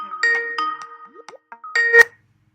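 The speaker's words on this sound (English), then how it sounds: "Ringing" A video call rings with a melodic electronic tone: a short run of bright chiming notes, a brief pause, then one more phrase that cuts off into silence. The ringing is clear and isolated.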